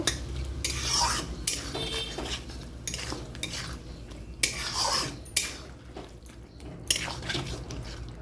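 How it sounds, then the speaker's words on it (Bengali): Spice masala with onion paste, salt and Kashmiri chilli powder stirred and sautéed in a pan for a magur fish curry, utensil scraping and clinking against the pan in repeated bursts, close and moderately loud, with no one talking. "মশলাটাকে ভালো করে কষিয়ে নিতে হবে"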